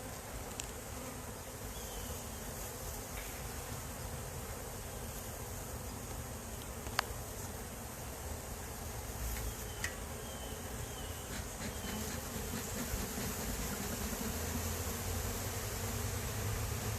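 Honey bees buzz in a steady, faint drone that continues without a break, close around a hive, with occasional tiny clicks and no talking.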